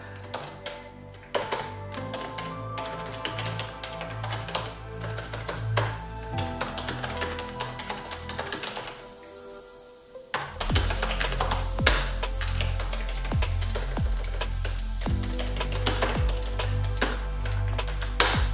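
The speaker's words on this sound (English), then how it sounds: "that's the kind of idea you get from typing on it" Keys clatter on a Corsair K57 wireless gaming keyboard, a dense run of quick clicks and taps up close over steady background music, pausing briefly midway before resuming louder.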